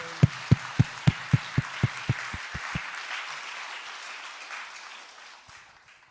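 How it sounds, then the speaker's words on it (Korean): A congregation in a Sunday worship service applauds. Loud, evenly spaced single claps near the microphone lead for a few seconds over a broader wash of crowd clapping that gradually fades away. "영광의 박수로 하나님께 영광을 돌리고"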